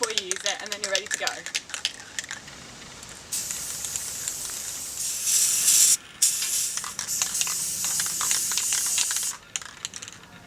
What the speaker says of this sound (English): Now I'm going to use PlastiKote Metal Protekt in black.